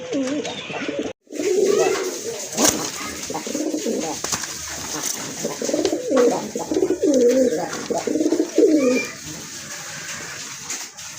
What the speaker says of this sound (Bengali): এটা কিন্তু মাশাআল্লাহ টপ ক্লাস এক জোড়া কাগজি কবুতর।